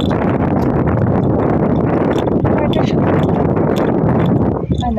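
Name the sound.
strong wind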